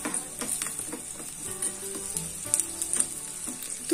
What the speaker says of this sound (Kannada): ಸ್ವಲ್ಪ ನಾವು ಹಾಕೊಂಡಿರುವಂತಹ ನೀರುಳ್ಳಿ ಗೋಲ್ಡನ್ ಲೈಟಿಶ್ ಬ್ರೌನ್ ಆಗಬೇಕು, ಅಲ್ಲಿವರೆಗೂ ನಾವು ಇದನ್ನ ಆಯಿಲಲ್ಲೇ ಫ್ರೈ ಮಾಡ್ಕೋಬೇಕು.